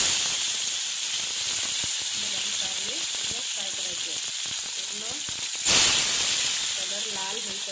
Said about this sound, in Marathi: तेल चांगलं गरम झाल्यावर हे कारले पूर्ण फ्राय करायचे